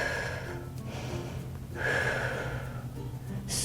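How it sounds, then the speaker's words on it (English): Deep, slow breathing during a chair yoga exercise, with steady airy inhales and exhales close by and a louder breath near the middle, heard alone without talk. "Take some deep breaths"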